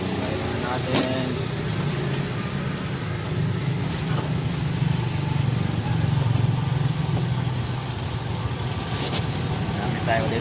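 A Honda Wave 110 motorcycle engine starts and runs at a steady, continuous drone, close and fairly loud, with a few sharper knocks over the running noise.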